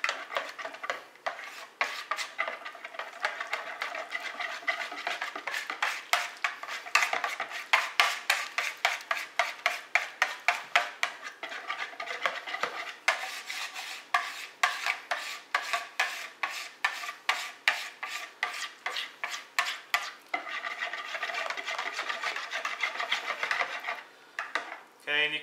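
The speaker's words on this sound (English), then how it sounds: "I'm just going to mix this up now until it's combined." Homemade pumpkin pie filling is whisked in a bowl, producing rapid rhythmic scraping strokes against the sides that quicken into fast regular beats and then slow, close and loud, with no voices.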